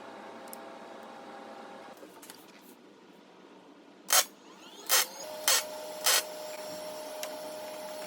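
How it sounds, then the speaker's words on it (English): A 7/8-inch steel steering tube rolls back and forth across a table saw top. Low rumbling rolling runs under a faint steady hum, and four loud, sharp metallic clacks come in quick succession near the end. "I'm just rolling it back and forth on my table saw to make sure that it's straight"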